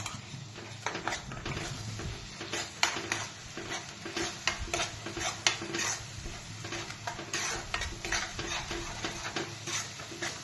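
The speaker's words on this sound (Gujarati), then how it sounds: "હવે આ ડુંગળીની પ્યુરી જે આપણે બનાવી તે નાખી દઈશું આમાં" Onion puree stirred into a pan of sizzling garlic, ginger and chili for dum aloo, a steady close frying hiss with continuous scraping and clinking of a spoon against the pan.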